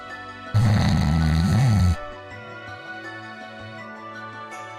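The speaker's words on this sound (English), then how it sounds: "Just straight up snoring against the mic." Someone snoring right against a microphone during a livestream: one loud, close, rasping snore lasting over a second, then quieter background tones with a drawn-out low grunt-like sound.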